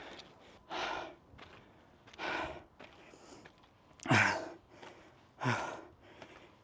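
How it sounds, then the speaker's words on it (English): Heavy, labored breathing of a hiker climbing a mountain in the heat, with deep gasping breaths in a slow, uneven rhythm, close to the mic. "Excuse the heavy breathing,"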